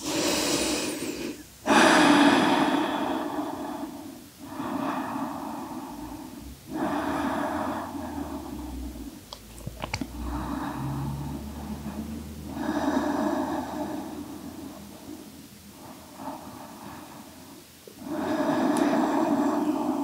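Slow, deep breaths during a Yin Yang Yoga session in Paschimottanasana, each long inhale and exhale rising and falling in a steady cycle roughly every two to three seconds, close and fairly loud, with no talking.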